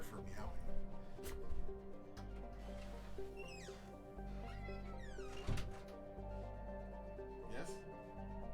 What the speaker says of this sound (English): Prepare for meowing.